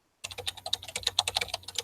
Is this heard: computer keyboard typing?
yes